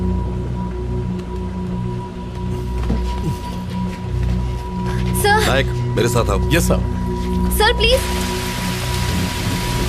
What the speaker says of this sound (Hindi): बारिश भी रुक नहीं रही है